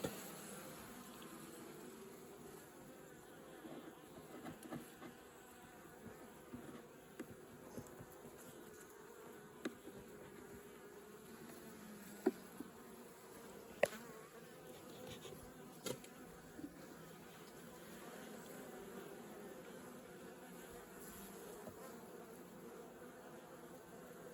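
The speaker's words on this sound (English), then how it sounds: "So you'd have to call that a box of bees in the middle of winter." Honey bees hum steadily inside a hive box in winter, a continuous low buzz close up with occasional faint clicks and knocks.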